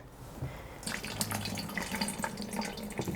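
A highly absorbent plaster sponge presses onto wet recycled paper pulp, with soft, close wet trickling and dripping water that rises into a steady splashy patter for a few seconds.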